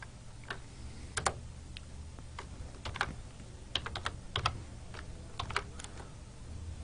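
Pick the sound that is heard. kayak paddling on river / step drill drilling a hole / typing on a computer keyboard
typing on a computer keyboard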